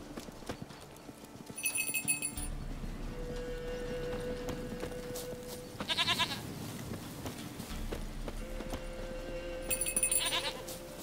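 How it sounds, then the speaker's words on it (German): A goat bleats in The Witcher 3 over a steady clip-clop of horse hooves, with a few short, high animal calls rising above the continuous hoofbeats and game ambience, and no talk. "Hier, ich hab deine Ziege."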